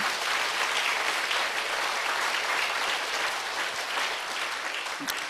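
A Korean church congregation claps together during a sermon, a loud, full and even roar of many hands that holds steady throughout and is not interrupted by speech.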